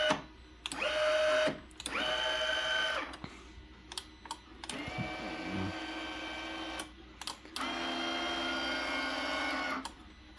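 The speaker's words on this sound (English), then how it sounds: "Here's how you control down here the actuators." Motorized actuators on a replica shrink machine from Honey I Shrunk the Kids whir in several close, fairly loud bursts lasting a few seconds each, separated by brief clicks and pauses.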